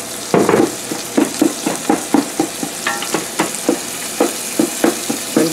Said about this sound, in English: taking this and just doing this with my wooden flat edge and just breaking up the pieces into bite-sized pieces